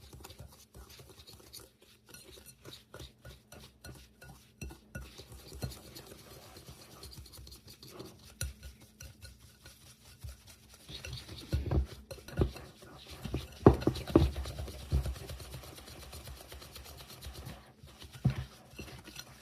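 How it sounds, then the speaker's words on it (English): A spoon or spatula stirs white and brown sugar into a pecan bread batter in a mixing bowl, making steady, rhythmic scraping and clinking strokes up close. The strokes turn louder and rougher toward the end, with no talking. "And then we're going to mix that until it gets combined really well."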